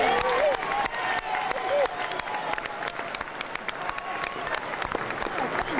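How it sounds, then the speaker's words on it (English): Crowd applauding an apology for lost childhoods, a broad, sustained patter of clapping from many people, with a few raised voices and tonal sounds drifting over it early on. "his words were greeted with applause and release"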